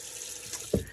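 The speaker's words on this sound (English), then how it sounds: "I didn't rinse my brush out yet, so I'll do that real quick." Water from a tap runs briefly over a shaving brush being rinsed, a soft close splash that swells into a short louder burst near the end, with no talking.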